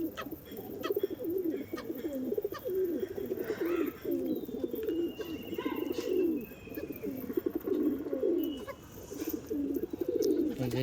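Pigeons coo steadily and fairly loudly in a home loft where Kalshira and Madras pigeons are kept, their low throaty calls overlapping continuously with no talk.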